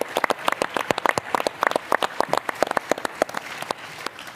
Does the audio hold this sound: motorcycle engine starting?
no